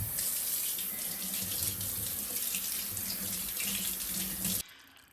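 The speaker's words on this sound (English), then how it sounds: "I'm going to give my hands a good wash right now." Hands are washed under a running kitchen sink tap: a steady, close rush of water that cuts off abruptly near the end, with no talking.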